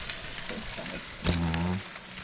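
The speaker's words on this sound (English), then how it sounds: "I'm gonna saute some" Brussels sprouts sauté in a pan with a soft, steady sizzle close by, and a brief tonal sound rises over it midway.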